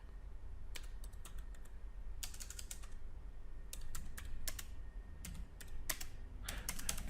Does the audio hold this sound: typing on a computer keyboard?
yes